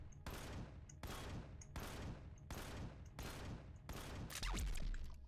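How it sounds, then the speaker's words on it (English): Sniper rifle fire in the Empyrion Galactic Survival video game: five sharp shots spaced roughly a second apart, each cracking loudly and trailing off, followed by a rumbling impact at the end. "How many shots with a sniper rifle does it take?"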